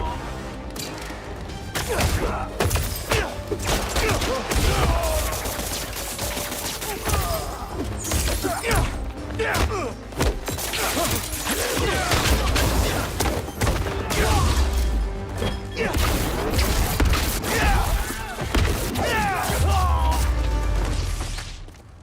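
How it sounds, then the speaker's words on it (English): Fireworks crackle and burst in Marvel's Spider-Man 2, a dense, loud barrage of pops, bangs and crackling over a busy game mix, with voices shouting at times. "Fireworks! They're lit!"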